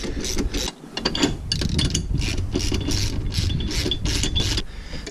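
Clamps on a dual battery tray kit being tightened by hand tool, close and continuous ratcheting and metallic grinding clicks with a brief pause near the start, no voices.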